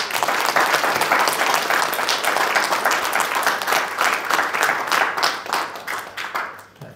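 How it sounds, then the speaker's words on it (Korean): A large audience at a political lecture in Gwangju gives sustained applause for the city party chairman, dense and steady clapping that holds strong for several seconds before slowly thinning at the end. "광주시당위원장 김정현 박수 부탁합니다"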